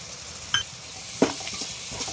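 Ginger garlic paste fries in a pan for an egg gravy, a fairly quiet sizzle broken by a couple of sharp metallic clinks and spoon scrapes, with no voices.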